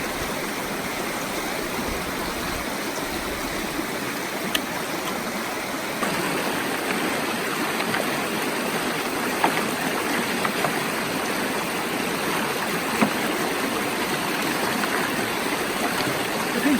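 River water rushes through a gold-panning sluice box, a steady, full broadband roar of flowing water with faint clicks of material, close and unbroken throughout.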